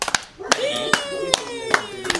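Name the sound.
audience clapping hands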